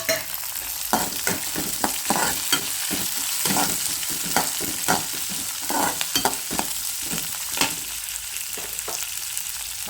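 Fresh green peas tossed into a frying pan of half-cooked vegetables for vangibath, giving a steady sizzle broken by repeated stirring scrapes and clatters.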